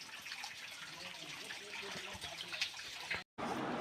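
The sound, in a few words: water trickling down from the rock in a cave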